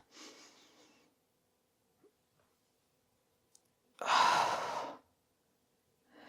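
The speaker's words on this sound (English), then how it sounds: "exhale." A person exhales forcefully while doing a resistance band hip thrust on a mat. A softer breath opens the clip, then a strong, close, breathy exhale lasts about a second in near silence.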